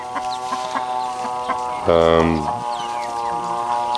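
Several hens in a pen keep up a low steady clucking, with one bird letting out a louder, longer squawk about halfway through, close and clear.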